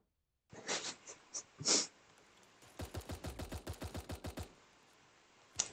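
SMG gunfire in Super Animal Royale rattles out as a rapid burst of about a dozen close, evenly spaced shots, preceded by a few softer scattered pops and breathy effects; no talking.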